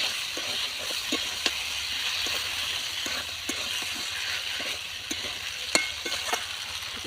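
Potato and tilapia fish curry sizzles and fries steadily in a pan, with a constant hiss broken by scattered sharp pops and the occasional clink of stirring.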